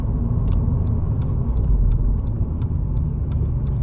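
Honda Civic Type R FN2 cruising on a road, a steady low engine drone and tyre rumble inside the cabin with a few faint ticking clicks, no talking.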